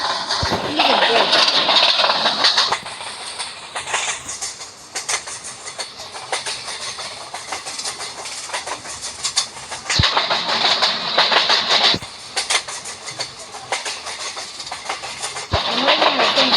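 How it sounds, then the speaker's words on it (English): A passenger train accelerating, heard from inside the carriage: a loud, steady rumble and rattle with repeated clicks of wheels over rail joints, and voices at times. "And right now the train is speeding up."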